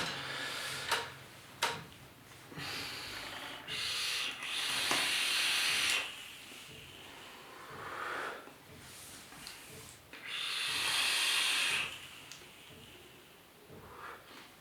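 Dense vapour exhaled from an e-cigarette fitted with an Aspano coil, with several long breathy hisses and a few soft clicks in between, close and fairly quiet.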